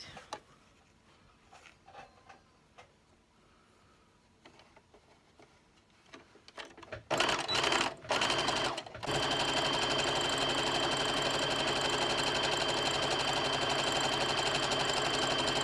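A sewing machine stitches a folded curtain hem, starting with a few quiet handling clicks and rustles, then a couple of short bursts before settling into a loud, steady, rapid whirring run.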